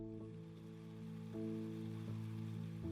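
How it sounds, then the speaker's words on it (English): Gentle rain falls outside a cottage on a cozy rainy evening, a soft, steady hiss with no words spoken and a low hum running underneath. "listening to the gentle rain"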